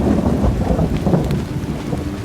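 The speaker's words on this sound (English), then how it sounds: "The sound of the rain is amazing." Heavy rain and rolling thunder fill the scene in the mobile game Little Orpheus, a dense steady downpour with deep rumbling swells, loud and continuous with no talking.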